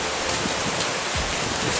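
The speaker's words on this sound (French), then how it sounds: "le vent s'est drôlement levé et pleut de plus en plus" Strong wind and steadily heavier rain at night on a mountain descent near a rock outcrop, a loud, dense, continuous wash of noise with no talking.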